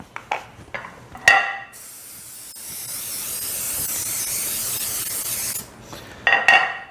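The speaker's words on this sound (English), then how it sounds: "I've got a big glass casserole dish here, and what I'm going to do is I'm going to spray it." Cooking spray hisses into a big glass casserole dish in one long, close burst of several seconds, framed by brief clicks and handling noises before and after.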